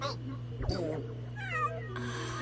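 Fat cat meowing in the video game Zenless Zone Zero, a few drawn-out, wavering meows and a caterwaul-like cry over a steady hum of game audio, with voices speaking alongside.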